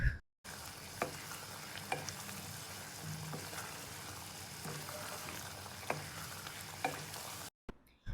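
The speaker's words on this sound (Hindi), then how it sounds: "तो हम चम्मच चलाते रहेंगे और इसे भूनेंगे 2 से 3 मिनट तक।" Chicken malai masala frying in a pan and stirred with a spoon, giving a steady sizzle broken by occasional sharp scrapes and taps of the spoon, close and fairly quiet, with no talking.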